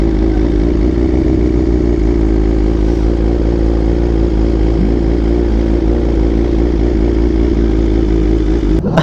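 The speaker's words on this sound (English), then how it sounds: "My Ferrari's loud." A loud, steady engine note from a Ferrari runs close and continuous with rumbling low harmonics, giving way to a sharp change at the very end.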